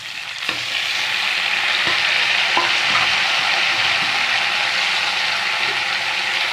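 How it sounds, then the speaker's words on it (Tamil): Mudakathan greens stirred in a hot pan, a continuous loud sizzle with a few scraping knocks of the spoon against the pan, close up and without speech. "நல்லா கிண்டி வச்சுக்கணும்"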